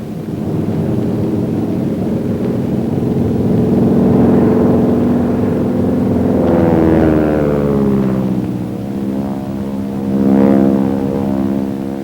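A North American Aviation T-6 airplane's engine drones loudly in flight, a continuous propeller roar whose pitch rises and falls as the aircraft maneuvers.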